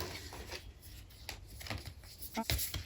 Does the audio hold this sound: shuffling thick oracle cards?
yes